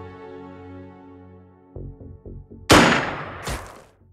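An assault rifle in the Xenonauts game fires two sharp, loud bursts close together near the end. A quiet musical drone and a few soft clicks come before the shots.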